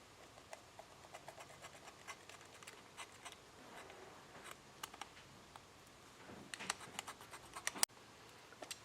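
Faint, irregular scratchy cutting sounds as a traced outline is cut out for a brake master cylinder rebuild, a run of soft snips and scrapes with a sharper click near the end.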